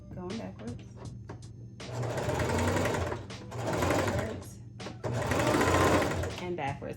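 A Singer Heavy Duty sewing machine running in reverse to knot the stitching, a close, loud mechanical whirring that comes in three sustained runs, with short clicking stops between them.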